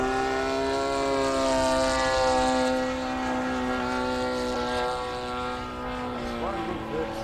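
A Hangar 9 20cc P-47 radio-controlled model plane flying overhead, its petrol engine giving a steady buzzing drone that swells and fades slightly as it passes, with someone talking over it.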